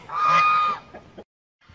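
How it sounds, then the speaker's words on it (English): A single loud, nasal honk from African geese kept with Muscovy ducks, close by, trailing into a few softer grunting calls before quiet. "So there they are, Muscovy ducks and 2 very loud African geese."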